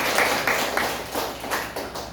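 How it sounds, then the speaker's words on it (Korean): A church congregation claps together during a Sunday service, a brisk run of rhythmic hand claps filling the room, fairly close and without talking. "박수 한번 합시다"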